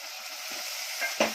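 Tomatoes drop into a pan of frying prawns for a Konkani-style dish, and an even, close sizzle follows. Near the end comes a short, brighter burst of hissing, with no talking.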